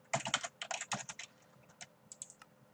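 Quick bursts of keystrokes clatter on a computer keyboard while a player types a sign in Minecraft. A dense flurry comes first, followed by a few scattered taps, close and clear with no voice.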